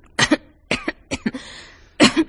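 A woman, addressed as a countess, coughs several times during a doctor's chest examination: short, sharp bursts in an irregular rhythm, close and fairly loud, with no talk over them.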